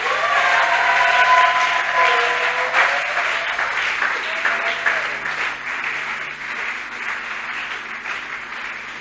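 Church congregation applauding and cheering in acclaim of the Lord, a dense, steady wash of clapping with some voices and a tonal element riding over it, loud throughout.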